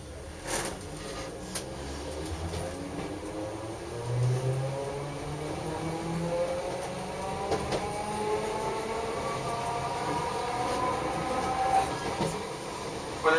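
A Toden Arakawa Line streetcar in Tokyo, running from Oji-ekimae toward Sakaecho, is heard from inside as its motor whine climbs steadily in pitch while it accelerates, with occasional clicks over rail joints and a continuous low rumble.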